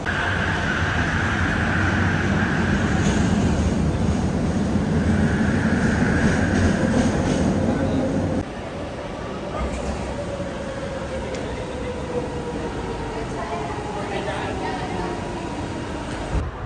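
Inside a moving LRT metro train in Kuala Lumpur: a constant rolling rumble and rushing hum, shifting to a quieter, smoother ride halfway through.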